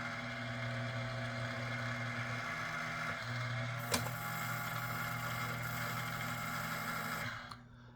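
An American Flyer 751 log loader toy runs its carriage with a steady electric motor hum and mechanical whir, one sharp click partway through, before winding down and stopping near the end.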